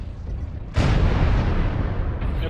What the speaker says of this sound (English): I hit you with AC cannon